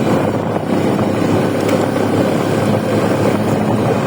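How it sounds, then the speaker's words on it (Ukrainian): Steady, loud engine roar and rushing wind from an Alpin motorcycle ridden in fourth gear at about 4000 rpm through a village, continuous throughout with no speech. "Мотоцикл Альпін, четвертою 40. 4 тисячі обертів."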